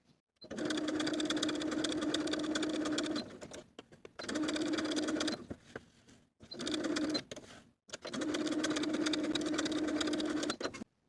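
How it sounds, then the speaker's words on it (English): A sewing machine stitches a skirt side seam in three long runs separated by brief pauses, a steady close whirring hum that starts and stops cleanly, with no voices. "I'm going to sew along my finishing stitches starting at the bottom of the skirt on one side"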